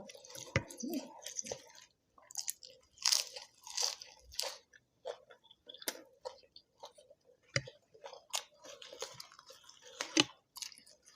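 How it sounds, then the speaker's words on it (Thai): Crispy pork skin eaten with spicy mala skewers, crunched close to the mic in repeated loud bites and chews, irregular bursts separated by brief quiet gaps. "หนังกรอบนะพี่น้อง"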